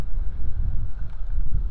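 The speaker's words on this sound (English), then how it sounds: "The wind's coming onshore a little bit now." Steady low rumbling wind buffets the microphone at the seashore, blowing onshore in continuous gusts with no voices.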